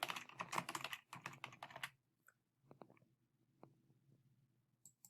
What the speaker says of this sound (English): I'm going to type first and last name.